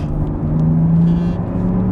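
A Mercedes-Benz GLS 450d 4Matic (X167) diesel engine hums steadily with a low, sustained drone that rises slightly in pitch, suggesting the SUV picking up speed from inside the cabin.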